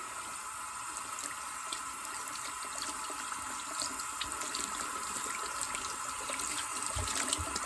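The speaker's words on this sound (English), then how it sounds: "And I'm going to rinse it with cold water." Steady cold tap water runs into a sink as dyed fabric is rinsed, a continuous even rush with faint splashing and no voices.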